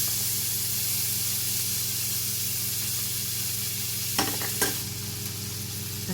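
Sauce simmering in a pan while cooking Italian-style bread-crumbed chicken, a steady low bubbling hiss and sizzle throughout, with a couple of brief clatters near the end.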